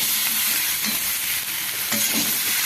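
Fish curry frying in a pan with cumin paste, tomato and green chilli, giving a steady broadband sizzle with soft scraping stirs, close and continuous.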